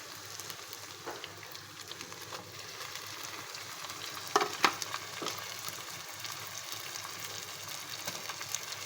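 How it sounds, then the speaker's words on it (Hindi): Minced meat frying with garam masala crackles in a steady, fairly quiet sizzle, with a few sharper spatula scrapes and clinks near the middle. "अब हम इसमें अपना कीमा शामिल करेंगे"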